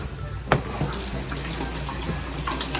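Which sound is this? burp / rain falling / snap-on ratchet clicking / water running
water running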